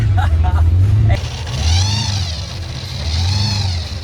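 A supercharged 351 Windsor V8 in a 1966 Mustang street car, fitted with Trick Flow Twisted Wedge heads, a big cam, a 671 blower and twin 750 carbs, gives a loud deep rumble, then revs twice with a whine that rises and falls.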